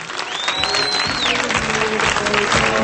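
Loud crowd applause at the opening of an election office in Arsuz, dense continuous clapping throughout with a few voices and cheers mixed in near the front.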